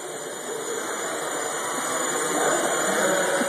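A Gaui 330X RC helicopter winds down after a flight, a loud, close whine with a hissing rush that holds steady and swells slightly near the end, with no voices.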